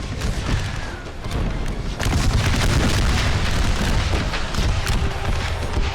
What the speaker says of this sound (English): So many guns firing at the other.